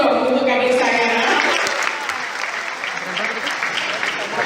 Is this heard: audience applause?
yes